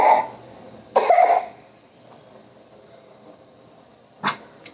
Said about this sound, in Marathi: किती खोकत आहे तो